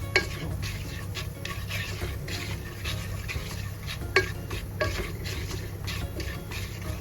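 Repeated scraping and light clinking as salt is stirred around a hot earthenware pan while heating, over a low steady hum.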